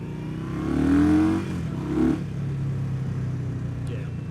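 A 2020 Indian Scout Bobber Twenty motorcycle engine revs up hard in two quick pulls, the second shorter, then settles into a steady running drone with wind rushing past.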